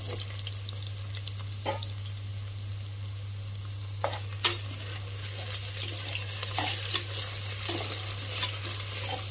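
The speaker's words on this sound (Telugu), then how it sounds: "ఆయిల్లో మంచిగా ఫ్రై చేసుకోవాలి ఇవన్నీ" Soya chunks and coconut milk frying in oil for a coconut milk soya pulao, giving a steady sizzle with scattered clicks and scrapes of a spoon stirring the pan, close by and without talk over a constant low hum.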